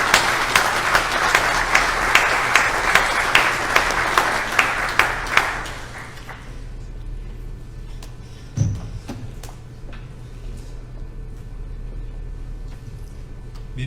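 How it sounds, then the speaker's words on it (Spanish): Warm applause from a lecture audience welcoming a speaker on hurricane risk management, dense clapping for about six seconds before fading out, followed by room tone and a single thump. "recibamos con un fuerte aplauso al doctor Raimundo Padilla Lozoya"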